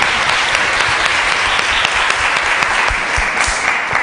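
An audience claps continuously for a guest being welcomed on stage, a thick, steady patter of many hands sustained for around four seconds.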